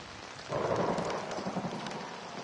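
A low rumble of thunder rolls in during a lightning storm in the video game Outlast, swelling suddenly and then fading slowly beneath a hiss of rain, fairly quiet and distant.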